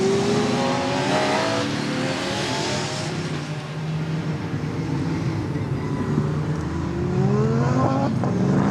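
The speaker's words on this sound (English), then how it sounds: "The formation lap, as you can see, is underway behind the safety car" GT3 race cars from the FIA GT3 European Championship at Zolder rumble as a pack on the formation lap behind the safety car, a continuous loud engine drone with rising revs, heard without talk.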